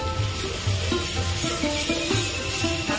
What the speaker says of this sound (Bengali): নাড়াচাড়া করে ভালো করে ভেজে নেব রসুনটা।